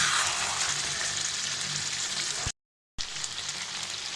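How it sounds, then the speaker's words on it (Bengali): Steady, loud sizzling of chicken with ground spice paste frying in a hot pan until the liquid dries, broken once by a brief moment of silence before the sizzle resumes. "মাংসটাকে আমি নেড়ে চেড়ে কষিয়ে নিচ্ছি"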